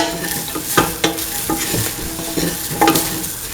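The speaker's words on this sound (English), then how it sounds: "Thoroughly saute and mix the potato pieces and the soya chunk pieces." Potato and soya chunk pieces sautéing in a hot pan, a close steady sizzle broken by repeated scraping stir strokes, with no talking.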